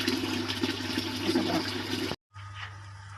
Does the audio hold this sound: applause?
no